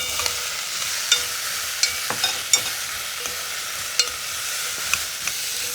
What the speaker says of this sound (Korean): 이제 황태를 살짝만 볶은 다음에 무도 바로 같이 넣고 볶아주도록 하겠습니다